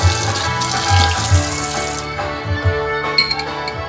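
Tap water runs into a sink as banana peppers taken from a jar are rinsed, a steady close splash with light clinks of glass.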